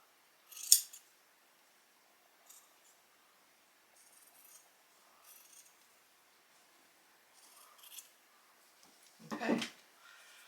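Scissors snipping through a men's flannel shirt, a few quiet isolated cuts spaced out over the stretch with near silence between, one longer rustle near the end.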